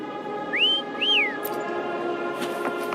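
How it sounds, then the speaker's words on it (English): Two rising-then-falling whistles call Foam in the Wuthering Waves video game, the second following about half a second after the first, clear and close over a steady game ambience. "Try whistling."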